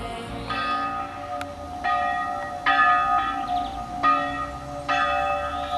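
The church bell of San Macario rings in Andorra, Teruel, Spain, with about six clear, resonant strikes at uneven intervals, each tone sustaining and overlapping the next.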